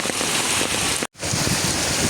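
Heavy rain pours down steadily where peacocks stand soaked, a dense, even hiss of falling water broken by one brief dropout.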